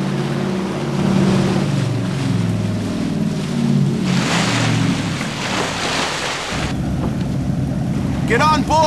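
A motorboat engine in the video game The Suffering drones over rushing water and wind, the engine note dropping and changing partway through, with a short burst of chirpy tones near the end.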